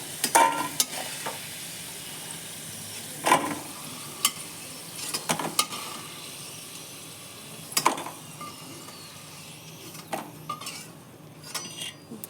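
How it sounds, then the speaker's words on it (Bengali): Potatoes frying in hot oil until reddish-brown, a steady soft sizzle under sharp clinks and scrapes of a utensil stirring and lifting them from the pan, with no talking. "দেখুন আমার আলুগুলো কত সুন্দর করে ভাজা হয়েছে, একদম লাল লাল করে ভেজে নিয়েছি"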